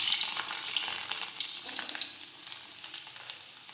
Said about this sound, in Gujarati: હવે આપણે તેમાં લસણ નાખીશું